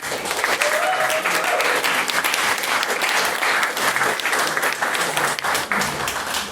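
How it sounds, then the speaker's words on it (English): Debate audience applause fills the room, dense steady clapping from many hands that continues evenly from start to finish. "ask for another round of applause"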